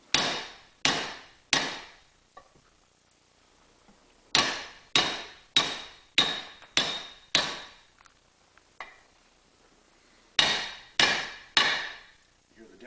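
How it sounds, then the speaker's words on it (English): Sharp metallic hammer taps seat a wrist pin into a Honda EV6010 RV generator engine, in bursts of three and four, each ringing briefly, with short quiet pauses between groups. "I wouldn't hold that camera too close to this hammer if I were you."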